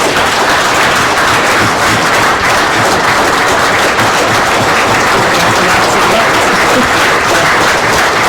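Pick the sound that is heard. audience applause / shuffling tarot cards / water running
audience applause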